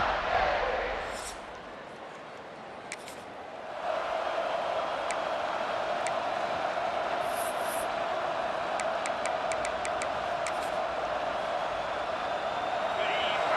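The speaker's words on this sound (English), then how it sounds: "It's early, but this crowd is fired up. Listen to this noise here." A large stadium crowd in a college football video game roars in a loud, sustained wash of cheering, dipping briefly before swelling back up, with an announcer speaking over it.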